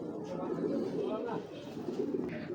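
Giribaz racing pigeons coo in a soft, continuous, overlapping murmur close by, with a faint voice faintly present beneath the birds.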